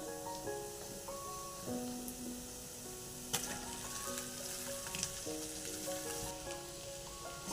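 Ponnaganti greens frying in a pan, a steady soft sizzle with light stirring, heard faintly under background music.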